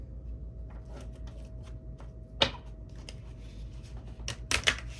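Tarot cards shuffled by hand, giving quiet, scattered papery clicks and riffles with a few sharper snaps near the end, close by and with no talking.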